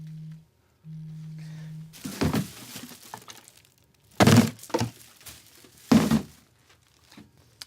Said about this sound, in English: chucking away an expensive cell phone